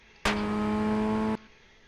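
Ray FF1600 race car engine in the iRacing video game, held near its rev limit: a loud, steady, close high-pitched engine tone lasting about a second before cutting off abruptly.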